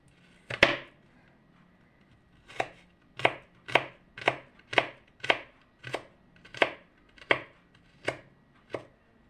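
Garlic being chopped finely with a knife on a cutting board: one sharp chop, a pause, then about ten crisp, evenly spaced knocks close by with no talking.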